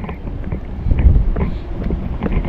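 Strong wind buffets the microphone in a constant low rumble, gusting louder at moments, with the faint sense of a boat on open water.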